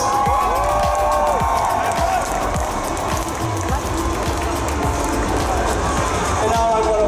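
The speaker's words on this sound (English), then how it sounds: "Ladies and gentlemen, one more massive cheer" A large comic convention Q&A audience in Belgium cheers and whoops loudly and continuously, with scattered shouts and a voice rising over the noise.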